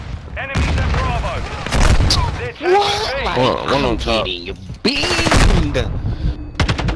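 Rapid automatic gunfire rattles through a Call of Duty online match, loud and close. It runs mostly under steady excited talking, with a sharper burst partway through.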